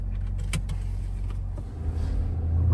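A GM pickup truck's engine rumbles close with a steady low drone, a few clicks and knocks early on, then the revs build as it pulls away down the road.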